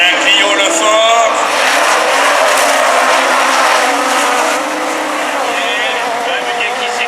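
Super 1600 rallycross cars, including Citroën C2s and Renault Clios, race at Châteauroux, their engines roaring loud and continuous while a commentator talks over them throughout.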